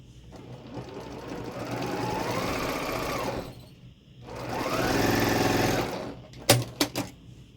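Sewing machine stitching rows of small Shoo-fly quilt blocks, two sustained runs of motor hum and rapid needle rhythm separated by a pause, close up, then a few sharp clicks and handling noises.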